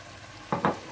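Green chillies and ginger hit hot oil in a chicken karahi, giving two quick sizzling bursts close up over a quiet background.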